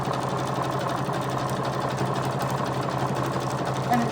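A sewing machine stitching a patchwork cover for a junk journal, running as a steady, even mechanical hum with a fast rhythmic chatter that stays close and constant.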